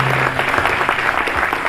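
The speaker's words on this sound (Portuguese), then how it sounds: "Vamos aplaudir o Senhor." A church congregation applauds together during a Sunday worship service, steady dense clapping filling the room at close range for a short burst.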